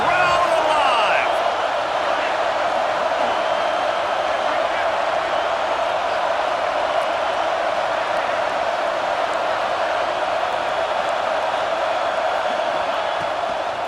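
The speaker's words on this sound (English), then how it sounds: "Third down. Red zone play. Crowd alive." A stadium crowd roars steadily during a red zone third-down play in EA Sports College Football 26, a loud, continuous wash of cheering throughout.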